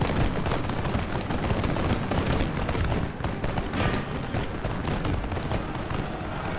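Musket volleys crackle in the Total War: Empire video game, dense and continuous like a distant battle fusillade, loud throughout with no clear gaps and no talking.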